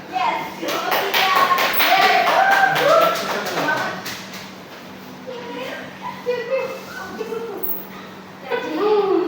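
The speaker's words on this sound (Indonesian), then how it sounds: "Tepuk tangan buat kelompok 2 ini" A classroom bursts into a lively round of hand clapping for a student group, dense and close for about four seconds, then thinning into scattered claps under children's chatter and a teacher's voice.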